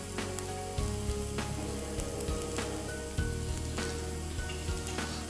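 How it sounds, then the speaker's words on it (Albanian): Onion frying in a pan for an oriz algoria rice dish with pancetta: a steady, loud sizzle with crackling spits, up close and continuous, with no voice. "Ja dhe qepë. Po skuqet, kërpullë."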